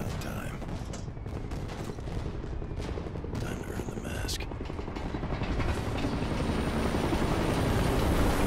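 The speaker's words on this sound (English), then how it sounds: "Chopper's landing." A helicopter descends to land in Call of Duty: Ghosts, its rotor chopping loudly and steadily and building in intensity, with mechanical clanks and faint gunfire-like bursts mixed in.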